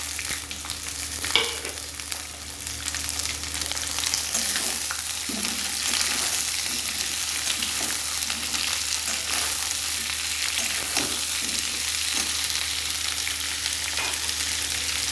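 Chopped onions added to partly fried potatoes crackle and sizzle in a pan at close range, holding a steady hiss throughout with occasional stirring scrapes and clicks.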